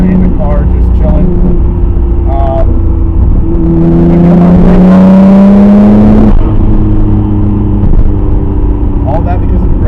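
Nissan R32 GTR engine running poorly while driving, a loud droning exhaust note that rises in pitch as it revs, then drops back to an uneven idle-like rumble.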